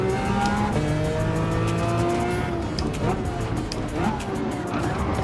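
A Mazda RX-7 race car drives in Gran Turismo 7, with a high revving engine whine that shifts pitch through gear changes and some tire squeal, steady and close, with talk over it at times.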